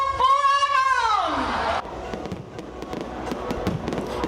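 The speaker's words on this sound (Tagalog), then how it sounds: "Tinapos ang Sinulog sa Carmen sa isang engranding fireworks display" Festival fireworks close the Sinulog celebration in Carmen, Cebu: a loud whistling rocket slides downward in pitch, then bursts into a dense spread of crackling pops and bangs that continue steadily.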